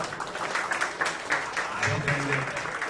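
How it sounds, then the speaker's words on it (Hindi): Audience applause for a well-known actor at a special screening of a short film, a steady dense patter of many hands clapping, fairly close, with a brief voice rising underneath near the end. "एक बार जोरदार इनके लिए ताली बजाएं हमारे बीच"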